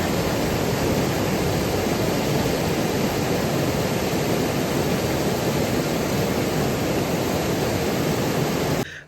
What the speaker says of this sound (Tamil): ஆனால் இப்போ மழை அதிகமாக வந்ததுனால வாட்டர் ஃப்ளோ வேறு லெவலில் இருக்குது